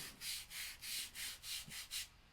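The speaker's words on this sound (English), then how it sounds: "Let's scrub it in with this one, since this one already had some dark pigment on" Seven rhythmic brush strokes scrub dark pigment into a surface, each a soft, even swish close to the ear, at a steady back-and-forth pace.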